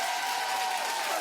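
A studio audience at a daytime television talk show claps briefly, a short, dense burst of crowd applause with no talk over it.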